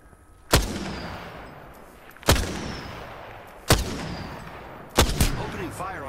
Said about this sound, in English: Opening fire on the enemy. The enemies are shooting at me.